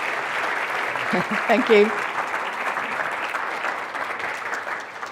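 Applause from a lecture audience welcoming a speaker to a talk on historic houses of Rancho Mirage, a steady close wash of clapping throughout, with a brief spoken thanks partway through.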